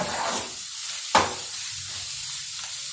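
Onions frying in a pan for egg curry give a steady, soft sizzle with one sharp clatter partway through, close and quiet, with no voices.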